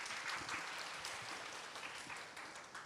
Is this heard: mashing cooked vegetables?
no